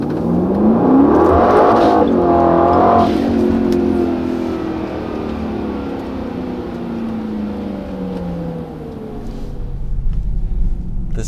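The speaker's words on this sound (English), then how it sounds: "You can really hear the new turbos breathing." A 2022 Brabus 900 tuned Mercedes-AMG GLE 63 S Coupe accelerates hard, its loud turbocharged engine climbing through the revs with a shift near the start, then settling into a steady roar.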